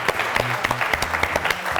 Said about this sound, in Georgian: გთხოვთ ხურვალი აპლოდისმენტები